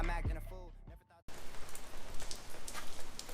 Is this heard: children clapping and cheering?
no